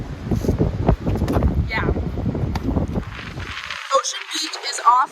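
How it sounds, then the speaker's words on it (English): Strong Pacific wind buffets the microphone at Ocean Beach in loud, gusty low rumbles, with a short spoken word partway through and quieter breezy stretches toward the end. "it's so windy on this side because it's the Pacific Ocean"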